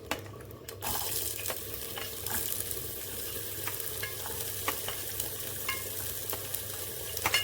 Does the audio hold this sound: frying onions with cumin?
yes